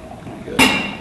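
Water poured from a kettle over ground coffee in a Hario V60 pour-over dripper, a sudden close splash of liquid that starts midway and continues as a soft trickle.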